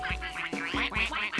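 Cartoon ducks on a farm quack in a rapid, loud run of about six nasal honks, one after another with no pause and no talking.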